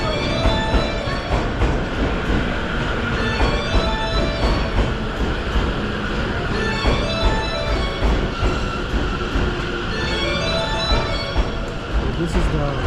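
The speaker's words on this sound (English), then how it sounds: "our train, the Kusatsushima Express, is arriving." An E257 Series Kusatsushima Express train arrives at Omiya Station, with rumbling wheels, rhythmic clatter and occasional squeals under a busy platform ambience, continuing loudly for the whole stretch.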